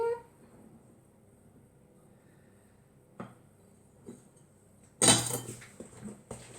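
Pound cake batter for a lemon quatre-quarts is stirred in a bowl, with a utensil clinking and scraping against the bowl, mostly soft and sparse but with a louder burst of knocks and clatter near the end.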